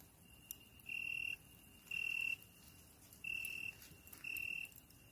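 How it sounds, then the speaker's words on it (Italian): Crickets at night in the countryside around Mombarcaro: four steady, high trills, each lasting about half a second and spaced roughly a second apart, faint against a quiet background. "Sentite i grilli?"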